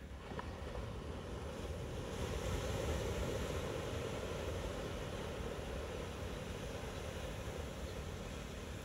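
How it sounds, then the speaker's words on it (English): Waves wash onto Fisherman's Beach at Simonstown on a bright winter day, heard as a steady, distant roar of surf mixed with wind rumbling on the microphone and no voices. "This is Fisherman's Beach, where I swim virtually every day"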